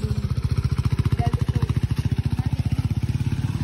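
A KTM RC 390 motorcycle engine thrums at a fast, steady pulsing beat, loud and close, in a single-cylinder rhythm that holds throughout.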